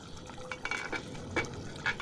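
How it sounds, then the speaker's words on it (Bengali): A broiler chicken curry is stirred in a pot, with soft scraping and a few light clinks of the spoon against the metal. The sound is faint and close, with no talking. "মাংসটা একটু নেড়ে নিই"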